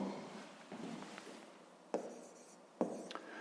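Pen or pencil writing on paper while working a fifth-grade math exercise, a soft continuous scratching with a few sharper taps and strokes, close and fairly quiet, no talking.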